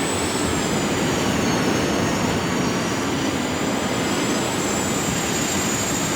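Learjet 45 jet in flight over Kelowna, Canada: a steady, loud broadband roar of engine and airflow with a constant high whine, continuous and unbroken, with no voices.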